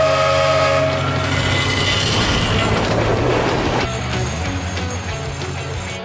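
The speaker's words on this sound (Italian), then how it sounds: "Arriva il treno!" A cartoon train rumbles steadily past in an animated children's show, with a sustained horn or whistle tone over the clattering roll of the rails.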